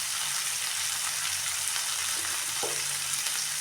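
Beans sizzling steadily in a hot pan for a Karnataka wedding-style palya, a dense continuous crackle up close with a faint scrape of stirring partway through.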